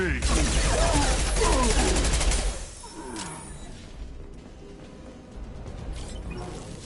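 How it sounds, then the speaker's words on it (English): Heavy automatic gunfire rattles loud and dense in a Mass Effect 2 combat scene, a sustained burst for a couple of seconds before dropping to a quieter, scattered background of shots and whooshes. "Taking heavy fire!"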